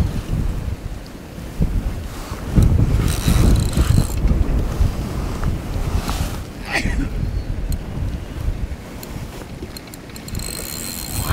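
Strong gusty wind buffeting the microphone at Decoy Lakes fishing venue during a match, loud continuous roaring rumble with surging gusts, and water lapping beneath.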